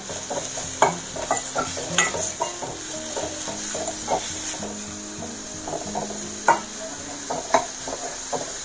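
Onions fry with a little salt in a pan, a soft continuous sizzle broken by clinks and scrapes from a spatula stirring at a steady pace, close by, with no voices.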